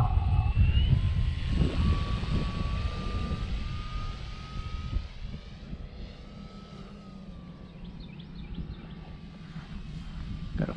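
A Red Bull PT-17 Stearman biplane with a chrome propeller flies overhead, its radial engine droning steadily at a moderate distance under gusting wind, fading slightly as it drifts away.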